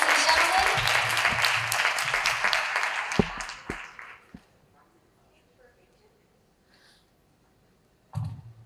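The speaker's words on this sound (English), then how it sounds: "A round of applause for our panelists, ladies and gentlemen." An audience at a health conference panel discussion in Dubai applauds the panelists, dense loud clapping that holds for about three seconds, then fades out into near silence before a voice speaks at the end.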